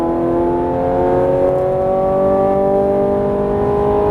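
A Ferrari 430 Scuderia engine at full throttle on a Las Vegas track, a loud steady high-revving roar that climbs smoothly in pitch throughout, heard from inside the car.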